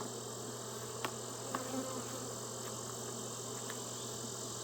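A dense, continuous buzz of many bees at an open hive hums evenly throughout, with a few faint clicks and taps in the background.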